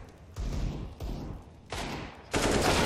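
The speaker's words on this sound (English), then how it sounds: "headshot coming in there from Chris" Bursts of automatic gunfire from a Counter-Strike esports match, four rapid volleys in close succession, loud and dense, the last the most intense.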